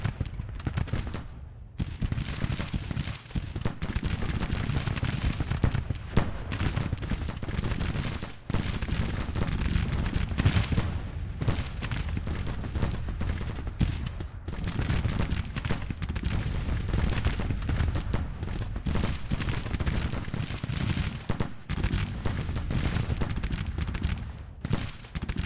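Civil War cannon fire in the strategy game Grand Tactician: The Civil War, a dense, continuous battle din of booming reports and rumbling blasts with no clear pauses.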